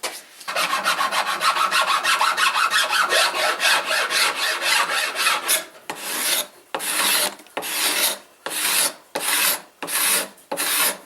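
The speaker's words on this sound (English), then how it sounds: "I'm gonna file it down, make it look all smooth and shiny" A rasp file scrapes steadily across a wooden guitar neck in a fast continuous scrape, then slows into separate long strokes with brief pauses between them, close up.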